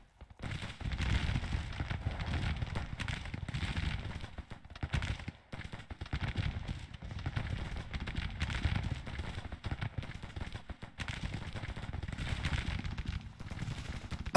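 Gunfire crackles through a Civil War-era battle in the Grand Tactician strategy game, dense, ragged musket volleys rolling continuously at a moderate distance, with brief lulls between bursts and no talk.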